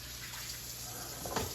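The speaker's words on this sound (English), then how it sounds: "Put water in" Water is poured into a frying pan that held cooked egg, giving a steady rushing hiss that swells into a brief louder splash near the end.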